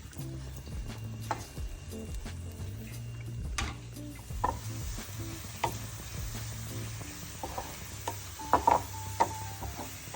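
Shallots fry in coconut oil for tempering, giving a soft, continuous sizzle with scattered utensil taps and a low background hum, the crackle briefly rising near the end.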